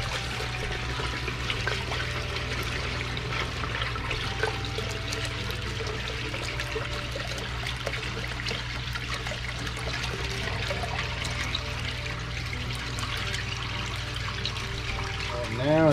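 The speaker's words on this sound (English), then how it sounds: "the water run through back to the pond now" Water from a three-barrel filter system flowing back into a backyard koi pond through an outlet, a continuous close splashing and trickling rush that runs steadily throughout.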